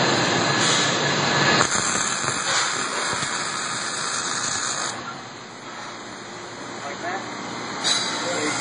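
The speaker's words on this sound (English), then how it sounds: "He's going to weld the second side of the nut now." A nut being welded onto a Cat weld fixture, with a shield over the nut, produces a loud, continuous hissing crackle that dips briefly midway, while a voice talks over it.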